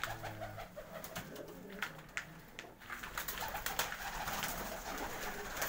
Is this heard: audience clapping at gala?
no